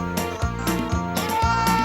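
Several sheep bleat in overlapping, wavering cries, loud and close, one after another with little pause between them.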